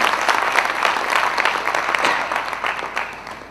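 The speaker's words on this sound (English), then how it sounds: "Come on, clap for Chennai." An audience at a YouTube brand-building talk in Chennai breaks into sustained applause. It is a dense, moderately loud roar of many hands clapping that fades slightly toward the end.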